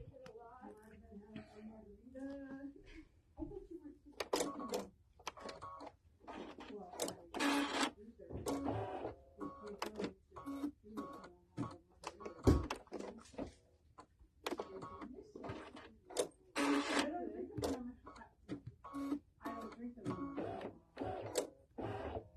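Domestic sewing machine stitching in bursts during a live home sewing session, a fast mechanical run starting and stopping repeatedly at close range, with a voice talking between the runs.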